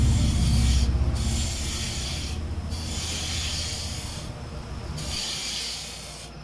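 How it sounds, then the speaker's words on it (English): Sandpaper rubs against a spinning maple burl mushroom on a wood lathe, producing a steady close hiss and rasp over the machine's low hum, pausing briefly a few times. "After I got it cleaned up with the sandpaper"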